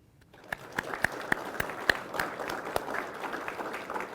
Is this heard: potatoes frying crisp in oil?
no